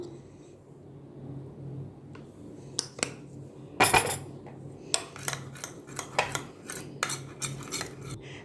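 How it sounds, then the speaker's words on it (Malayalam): A glycerin and oil face mixture is stirred in a bowl, making scattered clinks and scrapes of a utensil against the bowl that grow busier toward the end, over low room noise. "അപ്പോൾ ഇത് നന്നായിട്ട് മിക്സ് ചെയ്ത് കൊടുക്കാം."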